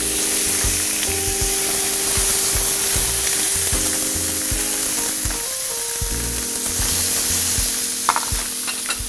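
Mahi mahi fillet sizzles loudly and steadily in a pan of clarified butter, a continuous frying hiss with a low hum beneath and a few scraping stirs near the end, no voices.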